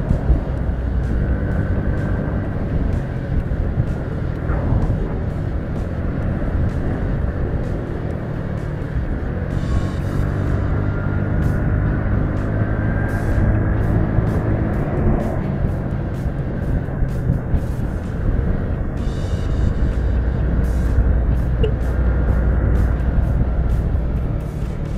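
A Honda Elite 125 automatic scooter hums steadily while accelerating and riding, a continuous engine drone mixed with road and wind rumble that stays loud and close throughout, with no talking.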